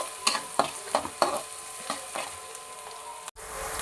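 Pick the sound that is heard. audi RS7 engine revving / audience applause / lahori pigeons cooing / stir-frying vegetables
stir-frying vegetables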